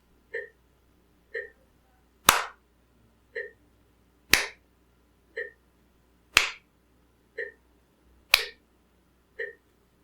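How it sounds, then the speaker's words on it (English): Sharp hand claps land on every second metronome click, four strong claps spaced evenly among soft regular ticks in a quiet room, marking half notes. "I'm going to clap every 2 clicks"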